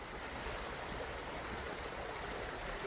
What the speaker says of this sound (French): Nous voyons que l'eau vient du haut et est en train de descendre facilement.